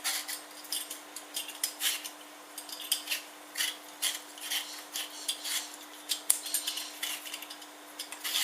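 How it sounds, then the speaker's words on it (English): Fruit being peeled by hand for a fresh fruit salad, a run of soft scraping, rubbing strokes in an irregular rhythm, close and fairly quiet, with no talking. "I'm just going to peel this quickly."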